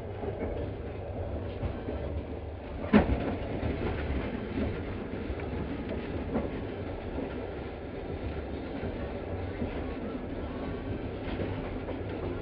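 Passenger train No. 117 running from Tyumen to Moscow: a steady, continuous rumble of wheels and carriage with faint rhythmic clatter and one brief sharp knock early on, heard from inside the train.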